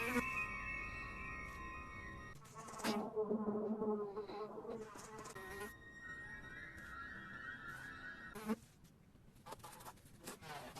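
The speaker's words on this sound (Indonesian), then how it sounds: "tiba-tiba seekor lalat masuk ke dalam kamar dan hinggap di wajahnya" A fly buzzes around a bedroom, its whine drifting and wavering in loudness across the scene, with music and other sound effects mixed underneath.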